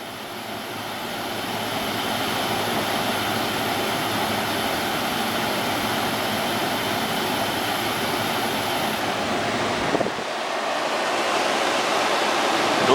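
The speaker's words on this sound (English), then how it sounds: "this thing has a really cool refrigerant gushing sound through the metering device" Refrigerant gushes through the metering device of a Fedders A1M10E2A window air conditioner, a steady broad hiss that runs on evenly and then shifts slightly near the end.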